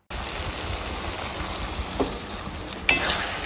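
Vegetables with tomato sauce, soy sauce and sugar sizzle and fry in a pan over high flame, a steady close hiss with occasional spatter and a louder stirring burst near the end.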